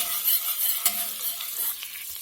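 Butter and a little olive oil fry and sizzle steadily in a pan on the stove, a close, continuous crackle broken by one sharp clink near the start.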